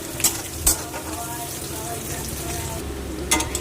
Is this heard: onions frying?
yes